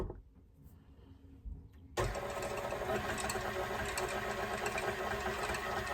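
A hand mixer beats cream for a homemade butter pecan ice cream base, starting after two seconds of near silence as a steady, loud, buzzing motor whir that holds constant to the end.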